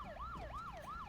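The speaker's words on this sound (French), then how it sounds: "Vite, l'ambulance est là." Wailing ambulance siren sweeping up and down in a steady repeating cycle, fairly faint and distant, with no talk over it.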